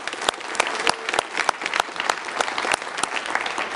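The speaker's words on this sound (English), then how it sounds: "Let's give yourselves a big round of applause for that." A crowd claps steadily, with sharp individual claps standing out in a fairly close, lively round of applause.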